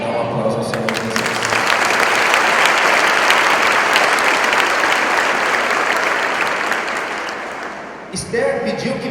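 A church congregation at a Sunday service breaks into loud, sustained applause, a thick crackle of many hands for about seven seconds, with the preacher's voice briefly before and resuming after it fades.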